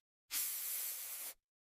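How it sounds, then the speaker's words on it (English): A can of air freshener releases a single steady aerosol hiss lasting about a second, close and clear, then cuts off into silence. "I spray air freshener."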